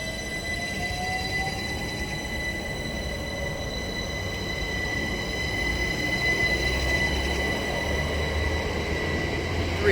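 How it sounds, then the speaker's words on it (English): A Class 387 electric multiple unit departs Hayes & Harlington station on the Great Western Main Line, a steady rumble of wheels and rolling stock with high whining tones, gradually swelling in loudness as it pulls away. "Departing now, we have this set of class 387s off to London Paddington from Didcot Parkway."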